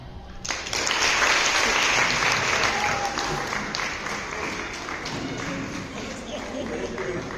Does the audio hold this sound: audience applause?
yes